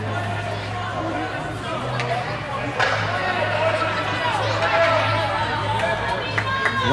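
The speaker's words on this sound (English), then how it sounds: "Crowd was getting a little heated over here, and so the refs are dealing with that." A hockey arena crowd murmurs and chatters in a steady hubbub, loud and continuous, with a steady hum underneath and voices talking throughout.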